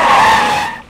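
A car pulls up and brakes hard, tires skidding in a short, loud, tonal squeal that holds for most of a second before fading out abruptly as the vehicle stops.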